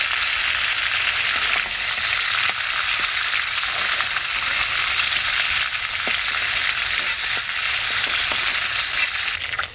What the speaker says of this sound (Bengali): আমি চিংড়ি মাছ ভাজা তেলে আমি 2টো তেজপাতা, এলাচ আর দারচিনি দিয়ে দিলাম।